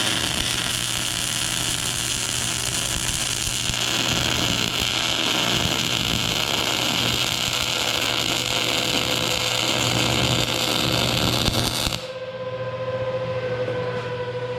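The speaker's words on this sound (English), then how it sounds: "Don't laugh at my welding." Stick welding on metal at a farm, a loud continuous crackling buzz with a steady hum that runs unbroken for about twelve seconds before the arc cuts off, leaving a quieter tone.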